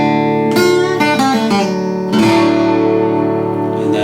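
Guitar plays a lick from a song, a handful of plucked notes with string bends over a ringing low string, ending on a sustained chordal strike; close and clear, no talking.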